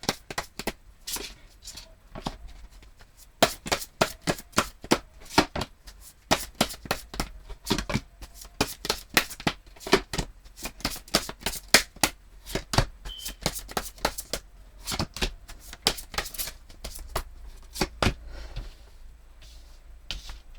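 Tarot cards being shuffled and riffled, a dense run of quick crisp papery flicks and taps that continues throughout at close range, with no talking.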